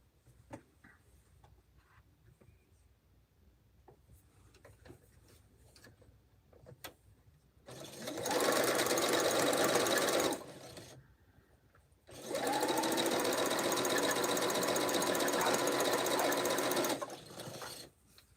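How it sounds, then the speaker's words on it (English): Two bursts of a sewing machine stitching quilt block pieces together, rapid, close mechanical whirring lasting a few seconds each, separated by quiet handling sounds and a brief pause. "I sew these two pieces together, then these two, and while these are still strung on, then I sew these three."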